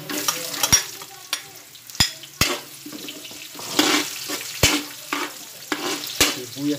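White onion sautéing in a pan while cooking spicy snails in coconut milk, moderate sizzling broken by sharp clicks and knocks of a utensil against the pan at irregular intervals, close and without speech.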